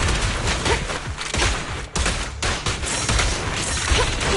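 A dense, continuous barrage of gunfire from the Suppressor K-22 in Zenless Zone Zero, loud and rapid with layered impacts and booms, briefly dipping midway before resuming just as heavily.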